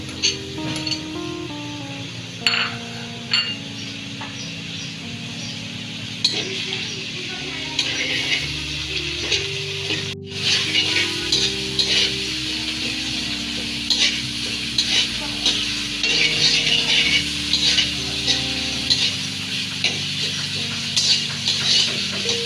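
Two onions frying in a small amount of oil in a pan, a loud, close, continuous sizzle with frequent stirring scrapes and clinks, while soft music plays underneath.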